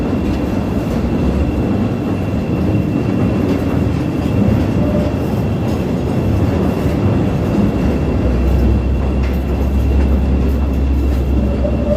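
A Chicago Green Line elevated train rumbles past at close range on a street near Wabash in the Loop, a loud steady roar of wheels and rails with a deeper low-end swell late in the pass.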